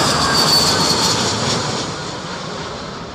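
Jet airliner landing at Heathrow airport during a storm: a loud, continuous engine roar that peaks early and then slowly fades as the aircraft passes.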